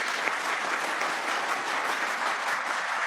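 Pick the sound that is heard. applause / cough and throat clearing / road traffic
applause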